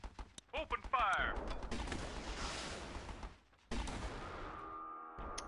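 Tanks opening fire in the game Battle Islands Commanders, a dense rattle of gunfire and booms running continuously for a few seconds, then a brief gap and more firing with a steady tone beneath, loud and close.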